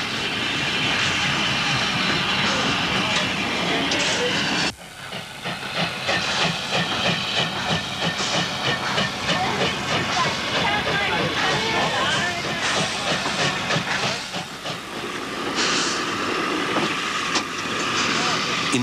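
Steam locomotive on the Pichi Richi Railway, hissing loudly and steadily throughout, with a sharp change in the steam noise partway through and a broadband roar continuing near the microphone.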